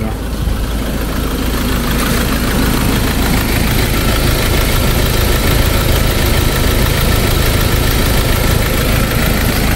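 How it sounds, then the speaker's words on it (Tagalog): A Ford Ranger engine idles with a steady, loud, close rumble and a constant mechanical drone throughout, without pauses. "pinandar ko na yung sasakyan"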